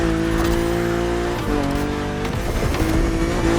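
Engine of a BMW Z4 E89 coupe cabriolet driving in The Crew Motorfest, a loud steady drone with pitch shifts as gears change, and light tire noise throughout.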